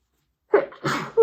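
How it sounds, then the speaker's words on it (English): A single close sneeze from a woman, a sharp inhale and burst, then a short vocal sound. "I think I have to sneeze."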